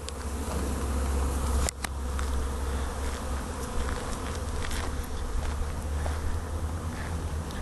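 A swarm of honey bees hums in a steady, dense drone close by, holding constant throughout with no voices over it.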